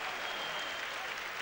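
A crowd at a 2011 AIBA Championships lightweight boxing final applauds, dense steady clapping filling the arena at moderate volume with no break.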